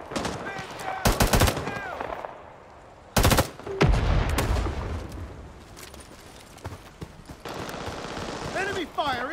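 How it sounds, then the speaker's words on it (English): Bursts of gunfire from the Rising Storm 2 video game, with sharp loud volleys near the start and again around three seconds, then quieter distant shots over battlefield ambience and faint whistling effects. "Enemy fire incoming."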